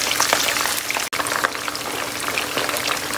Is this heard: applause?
no